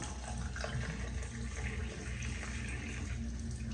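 Running water pours steadily from a tap as a beard is wetted, a continuous low splashing rush that stays even throughout.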